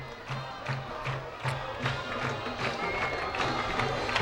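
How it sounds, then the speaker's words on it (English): A crowd murmurs and shouts in the stands on a hot night at a 2000 high school football game, Davenport North against Assumption in Iowa. The noise is a fairly steady roar with rhythmic swells of cheering. "we have a good crowd on hand"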